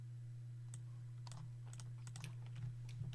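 Light clicking keystrokes on a computer keyboard come in short irregular bursts, quiet and close, over a steady low electrical hum.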